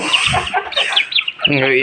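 Three-month-old roosters cluck and call in short bursts close by, ending with a longer crowing-like note; a voice may be heard briefly in the mix.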